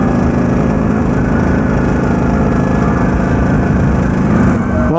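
A Vespa scooter engine drones loudly and steadily while riding, a continuous buzzing roar close to the rider for the whole stretch.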